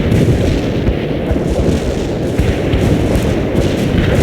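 An artillery barrage in a war video game rumbles continuously, with dense overlapping low booms and blasts rolling without a break.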